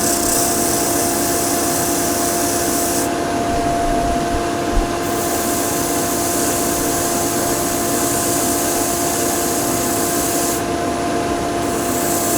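A power sander works wood at 120 grit, spinning around 1800 rpm with dust extraction running, giving a steady continuous rubbing whine with no break through the whole stretch.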